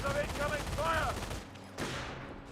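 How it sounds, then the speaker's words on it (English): An MG-42 machine gun rattles in sustained, dense bursts on a Company of Heroes battlefield and briefly drops away. A single loud report follows, all heard amid continuous combat noise. "NG-42 hitting the engineers."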